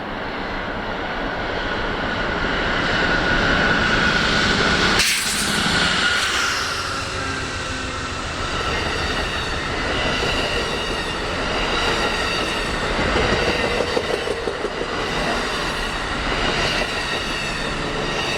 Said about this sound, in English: Amtrak's eastbound California Zephyr came drifting downhill beneath the Southern Pacific Signal Bridge